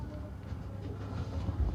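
A Thameslink Class 700 train on a Bedford to Brighton service rumbles past at a distance, a low, steady drone of rail and motor noise building slightly toward the end.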